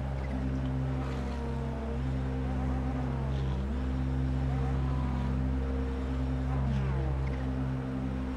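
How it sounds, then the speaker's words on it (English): Steady, droning Ferrari GT3 engine roar at Red Bull Ring held at a constant pitch, with shifting tones rising and falling over a continuous rumble, in a racing game. "Almost sounds like someone's trying to kill their car, revving it that hard."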